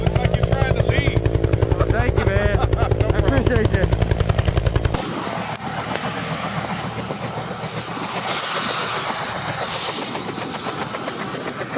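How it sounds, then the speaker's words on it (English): A helicopter flies over Arctic sea ice near a submarine, first a loud rhythmic rotor chop, then a steady broad roar of engine and wind; a voice speaks over it. "headed towards the chopper, which did one orbit around the Toledo so we could see what it looked like when it punched through the ice"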